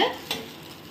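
Dosa batter, leftover batter, poured onto a hot pan and sizzling in a brief soft hiss, with a small burst of sputter partway through, then a steady low frying crackle.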